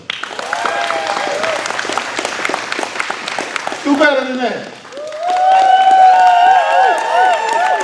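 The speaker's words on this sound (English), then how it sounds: "let's give a round of applause to our councilman" Applause and cheering break out for a councilman at a watch party, with dense clapping from a crowd that swells after a short spoken remark and continues loudly to the end.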